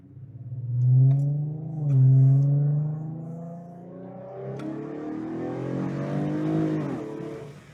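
An Infiniti Q50 with a VQ37 engine and a grounding kit fitted drives out of a residential neighborhood, its engine note rising and falling twice with throttle and then settling into a steady, moderately loud hum from inside the car.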